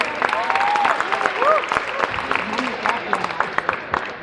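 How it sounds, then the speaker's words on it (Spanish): Conference audience in Orizaba applauds warmly, a moderate burst of clapping with crisp individual claps and some voices calling out, gradually thinning toward the end. "para quien pido un fuerte aplauso"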